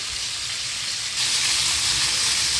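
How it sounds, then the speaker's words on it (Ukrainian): Skinless chicken thighs fry in a pan with a loud, close, continuous sizzle that swells slightly partway through. "Ось так обсмажується курочка без шкірки"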